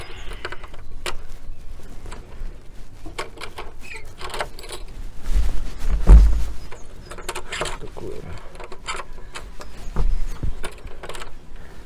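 A key rattles and scrapes in the lock of a brick village shed door, with repeated metallic clicks and jiggling and a heavier clunk near the middle. Faint voices are heard now and then.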